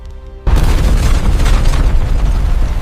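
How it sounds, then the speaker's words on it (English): Powerful bomb explosions strike a government district: after a brief quiet moment a deep, loud boom erupts and rolls on as a sustained, rumbling roar without fading. "powerful explosions shook the center of the government district."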